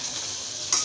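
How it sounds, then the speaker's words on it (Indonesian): Spiced liver stewing in a pan as it is stirred, a steady soft sizzle and simmer with faint scraping, brightening briefly at the end; no talk. "Kita aduk lagi"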